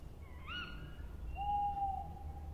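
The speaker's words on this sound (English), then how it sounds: "It was the owl that shrieked." Owl hoots used as a stage sound effect in an open-air Macbeth performance: a few tonal, wavering calls, the last one a long sustained hoot, heard alone over low outdoor background noise.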